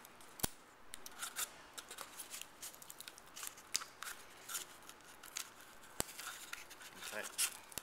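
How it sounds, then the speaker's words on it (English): Scissors snip and slice through card in a series of quiet, irregular cuts with soft scraping between them, close by. "Slide the scissors in."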